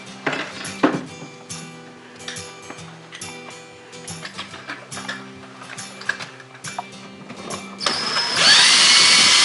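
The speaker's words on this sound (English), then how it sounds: "And that's it for the drilling." Short drill bursts into sheet metal ductwork and metallic clicks and clatters come in intermittently, then a harsh, sustained high-pitched grinding rises loudly near the end.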